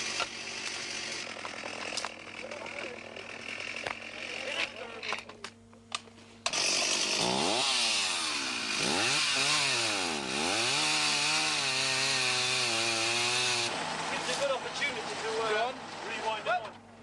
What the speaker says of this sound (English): If it's not the buzz of chainsaws, it's the thud of hand axes which reverberates around the still mountains